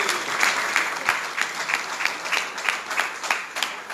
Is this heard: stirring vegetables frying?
no